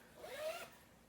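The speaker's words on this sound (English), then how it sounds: "The zipper on them, I put a little pull on it." A zipper is pulled along a small fabric zipper pouch with a lining, giving a single quiet, close, raspy zip lasting under a second against a faint room hiss.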